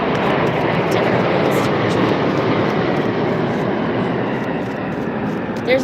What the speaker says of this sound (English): No birds, but only planes.